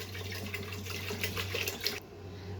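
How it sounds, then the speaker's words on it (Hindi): About one litre of water runs in a continuous splashing stream into a pressure cooker, then cuts off abruptly near the end. "साथ ही इसमें मैं 1 लीटर पानी ऐड कर दूंगी"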